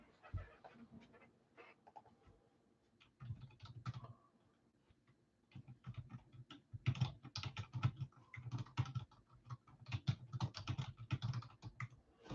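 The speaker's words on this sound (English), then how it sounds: "Just typing that in there so you can see it." Quiet, uneven clicking of keys on a computer keyboard, with bursts of rapid typing and short pauses, no voices.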